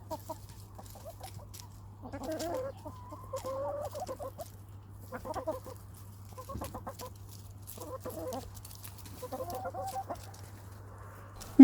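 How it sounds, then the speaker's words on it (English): Chickens cluck and chatter intermittently while pecking corn kernels from cobs, short bursts of fowl calls close by over a steady low hum, with a sharp knock at the very end. "the chickens are just as delighted to pick the kernels out of the cobs for themselves"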